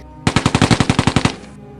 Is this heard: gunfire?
yes